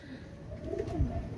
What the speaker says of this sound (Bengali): অসাধারণ কবুতর